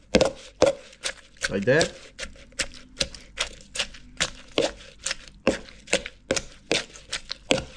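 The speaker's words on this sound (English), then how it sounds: "Now just pound it together lightly." A pestle pounds lightly into a mortar while green papaya salad ingredients are mixed, giving a steady rhythm of sharp, close knocks about twice a second, with a brief spoken remark among them.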